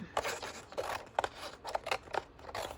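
Scissors snip repeatedly through paper while a DIY travel journal is being trimmed, a series of crisp, close cuts in an irregular rhythm with short pauses between strokes.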